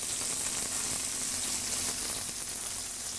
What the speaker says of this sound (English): So the rub is nicely browned on there, searing in the flavor.